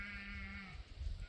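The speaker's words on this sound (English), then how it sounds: "they don't look like goats, and they make sheep noise" Rams, male sheep, bleat outdoors in Wales, a single drawn-out call ringing out over low wind noise, fairly close and alone without talk.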